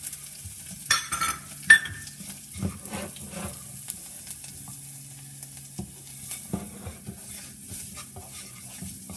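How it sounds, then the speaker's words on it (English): Coriander, chili and turmeric powders with salt fry in hot oil for spaghetti squash sabji, a soft steady sizzle broken by close scraping strokes of a spoon stirring the pan. "I'm going to add my dry masalas, which is coriander powder, chili powder, turmeric powder,"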